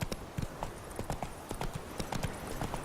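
The horse Roach gallops in The Witcher 3, her hooves striking in a fast, continuous clip-clop rhythm at moderate distance over faint ambient background.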